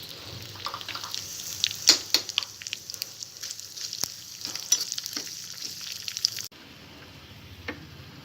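Garlic, dried red chilies, cumin and mustard seeds sizzle in hot oil for a chutney tempering, a steady close fry crackling with sharp pops and spoon stirs, quieting after a sudden cut partway.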